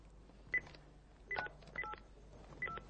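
A landline phone being dialled gives a few short touch-tone beeps, with pauses between key presses, fairly faint over a low background hum, and no one talking.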